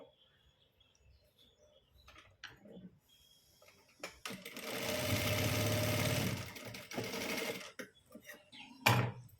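A sewing machine stitches an armhole seam in a continuous steady whir that runs for several seconds, loud and close, with quieter handling noises before and after.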